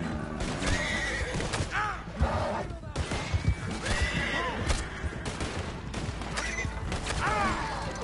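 A horse in the Red Dead Redemption 2 video game neighs repeatedly over hoof clops, with distant gunfire and crashes in a busy game mix, while a voice talks at moments.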